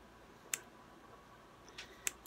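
Scissors snip at the bangs of a synthetic wig, three sharp, faint cuts spaced apart in an otherwise quiet room.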